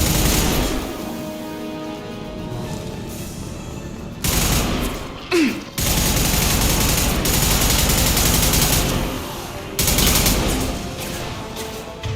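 Loud sustained gunfire from the Mass Effect 2 video game, dense automatic bursts roaring nearly nonstop, with brief gaps and a sharp whooshing effect midway.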